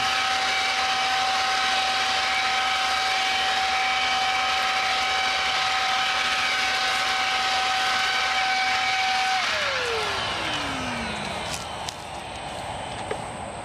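Cordless battery leaf blower with two speeds running at high speed, a loud steady broadband whoosh with a strong whine that drops in pitch near the end as the motor winds down, no talking.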